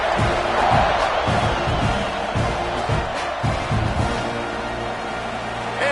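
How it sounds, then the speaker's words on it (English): A stadium crowd at a Georgia college football game buzzes and roars after a score, a dense sustained murmur with swelling cheers and occasional whoops as the teams line up for the kickoff. "this crowd is buzzing after that last score"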